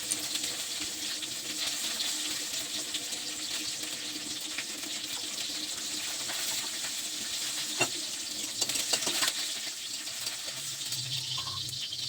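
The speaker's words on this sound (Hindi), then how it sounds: "तो चलिए जल्दी जल्दी हम मिर्चाई को अच्छे से तेल में भूंज लेते हैं" Chillies fry in hot oil in a home kitchen, a steady broadband sizzle running throughout with a few brief clatters near the end, close and fairly quiet, no voices.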